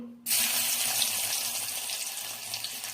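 Garlic dropped into very hot oil in a home kitchen sets off a sudden loud, steady sizzle that holds unbroken and close for the rest of the moment.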